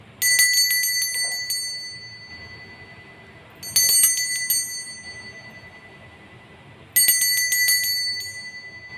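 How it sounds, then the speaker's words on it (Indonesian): Three separate rings of a small bright bell, each sharp and metallic with a lingering decay, spaced a few seconds apart over a faint background. "Kita akan memulai dengan ditandai lonceng berbunyi."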